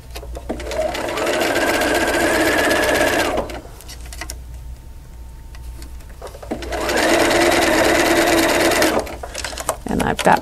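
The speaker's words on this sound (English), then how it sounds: "I'm gonna start sewing." A sewing machine stitches pieces of a double wedding ring quilt, with two loud, steady whirring runs of about three seconds each separated by a quiet pause.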